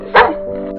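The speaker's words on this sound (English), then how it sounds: "my dog is right here" A pet dog gives a single short bark close by in a quiet room, standing out briefly over low background hum.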